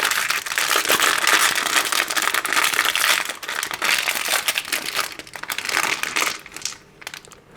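Crinkling plastic packaging from an ARISTEIA board game unboxing, a continuous dense rustle that is close and fairly loud throughout, easing slightly near the end, with no talking.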